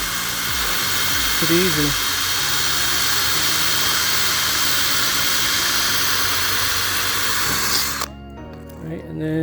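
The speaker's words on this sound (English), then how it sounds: "use a wire wheel and just go in there" A wire wheel on a power tool whines loudly and continuously as it scours out the rain gutter drip rail channel of a GMC motorhome, cutting off abruptly near the end before someone briefly speaks.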